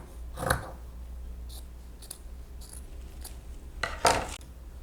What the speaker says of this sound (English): Now I'm going to just trim these little seams that are on the sides here